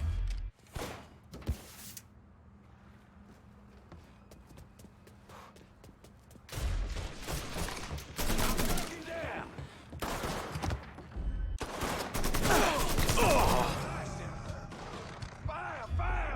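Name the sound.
gunfire in the video game Mafia III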